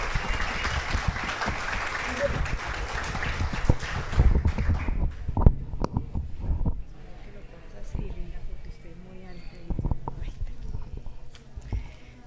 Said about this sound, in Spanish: lo vamos a hacer con un fuerte aplauso a la señora alcaldesa del municipio de Campo Alegre